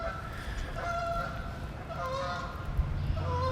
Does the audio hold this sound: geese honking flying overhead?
yes